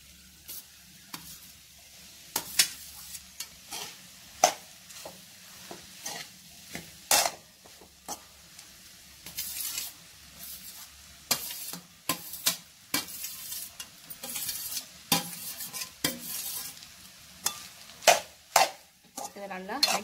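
Cooked rice stirred into a scrambled egg mixture in a pan, with repeated sharp scraping and clattering strokes of a spatula over a low sizzle, irregular and close.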